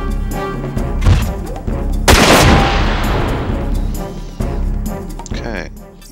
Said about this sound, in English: Aim, snipe. Put a body shot in.